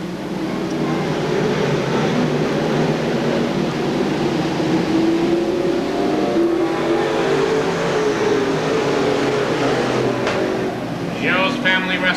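Stock race cars lapping Seekonk Speedway at a 1994 weekly event, engines droning and revving continuously at a distance while an announcer talks over the track noise.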